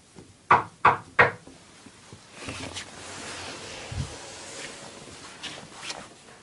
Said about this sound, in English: can you knock at that door, Big Toe?